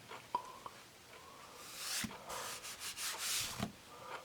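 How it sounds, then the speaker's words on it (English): A gum eraser rubbing over a graphite pencil drawing made with 3B and 5B pencils gives soft, close scratchy rubbing in a few short bursts, with light taps and paper handling between strokes and no talking. "So we're going to try that one, a gum eraser, first on both of these and see how they do."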